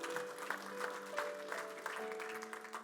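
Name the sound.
congregation applause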